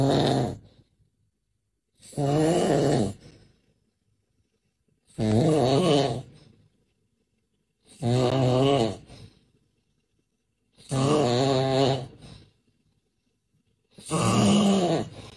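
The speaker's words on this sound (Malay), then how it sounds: "hari ini kita akan bincangkan bahaya masalah berdengkur" A person snoring loudly in six long, regular groaning breaths spaced about every three seconds, with quiet pauses between them and no one speaking.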